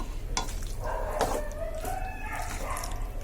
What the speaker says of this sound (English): Now I've just turned off the gas and I'm just mixing in everything together